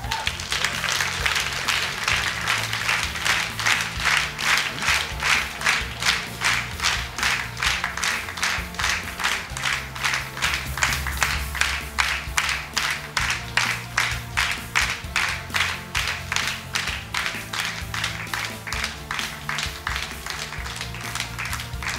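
Audience applause at the final of a televised talent show, a dense, steady patter of many hands clapping in a fairly even rhythm, sustained throughout over a low musical backing.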